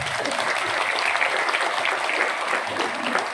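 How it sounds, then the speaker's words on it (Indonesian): An audience in a mosque during a religious lecture breaks into sustained, dense clapping that holds steady and loud throughout, with a faint voice underneath. "Tepuk tangan dulu buat kiswah center."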